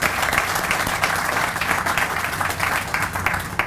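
Sustained applause from an audience of city staff, police and fire department members at an energy project celebration, steady dense clapping throughout without pause.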